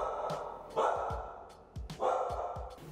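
An American Staffordshire terrier guard dog barks in a run of sharp, close, loud barks, several quick ones clustered with a short gap partway through.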